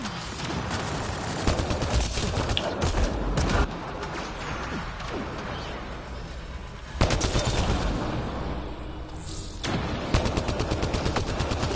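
A turret fires in Lotus Effect Alstroemeria, rapid bursts of gunfire rattling in dense clusters with louder strikes every few seconds, layered over constant game noise.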